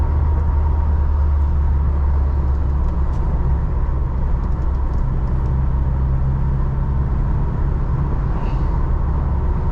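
A 1989 Ford Ranger pickup cruising straight down a highway, its steady engine drone and road rumble filling the cabin at constant speed, loud and unbroken throughout, with no voices.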